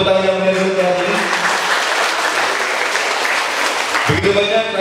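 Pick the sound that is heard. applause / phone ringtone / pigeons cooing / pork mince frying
applause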